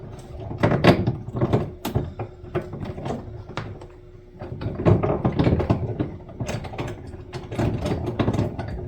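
A homemade bow draw board ratchet is cranked in a rapid series of close, sharp mechanical clicks and clunks, with short pauses between bursts and no talking.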